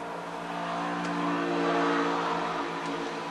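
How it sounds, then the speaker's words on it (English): A motorcycle passes outdoors, its engine a mid-distance harmonic hum that swells toward the middle and then fades slightly, with no talk over it. "Motorcycle."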